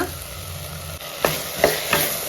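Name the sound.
cut brinjal and raw mango cooking in a pan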